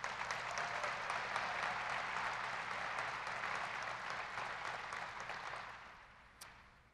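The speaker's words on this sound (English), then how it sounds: "If you'd give them a round of applause" A press-conference audience applauding for an introductory event for the Baylor women's basketball coach: a steady wash of many hands clapping from start to finish, holding level and then tapering off near the end, with no talk over it.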